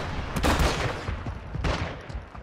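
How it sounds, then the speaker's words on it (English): Rapid bursts of gunfire in the Warzone battle royale video game, loud and close, with a heavy volley early and another sharp burst later, then trailing off into scattered shots. "Throwing shots right near your position"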